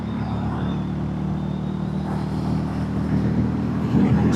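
A Hero Hunk 440 motorcycle engine pulls steadily at around 5,000 rpm on a country road uphill, a continuous low droning rumble with a slight rise in loudness near the end.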